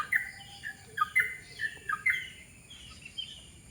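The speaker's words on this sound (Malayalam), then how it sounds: "ആ മരത്തേലൊക്കെ നന്നായിട്ട് കുറേ കിളികൾ ഇരിപ്പുണ്ട് കേട്ടോ" Many birds in a tree chirp and tweet in quick, scattered bursts, fairly faint against a quiet background.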